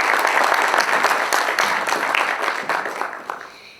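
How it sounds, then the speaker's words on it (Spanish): An audience applauds loudly and steadily at a book presentation, a dense burst of clapping that tapers slightly toward the end. "Un fuerte aplauso, por favor."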